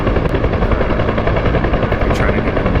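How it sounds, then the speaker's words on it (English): A Huey helicopter in a flight game gives a loud, steady rotor thump and turbine roar that fills the whole stretch with no letup. "Especially if you're new to flying helicopters, especially the Huey"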